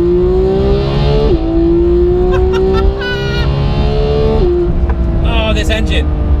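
A Ferrari F12 TDF engine accelerates hard on an open road, revving up through the gears with two shifts, loud and close, with a steady high engine whine throughout.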